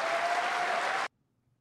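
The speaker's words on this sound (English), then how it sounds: "Wow, Pierre, we applaud you." Dense audience applause at a political event honoring Canadian politician Pierre Poilievre, a loud steady wash of clapping that stops abruptly after about a second, leaving near silence.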